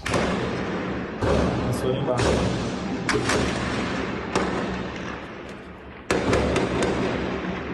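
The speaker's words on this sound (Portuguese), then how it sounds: "Tiros de fuzis romperam o silêncio da noite em Araraquara" Sharp, loud rifle shots crack out repeatedly over a steady rumble at night during a bank robbery in Araraquara, Brazil, arriving in irregular bursts with voices faintly underneath.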